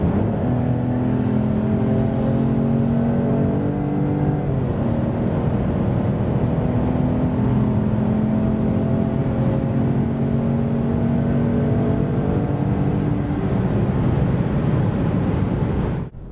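Steady loud engine drone as a 2023 Opel Mokka with a 1.2-litre three-cylinder turbo accelerates from 90 to 140 km/h, pitch rising gradually with one gear change, accompanied by road and wind noise.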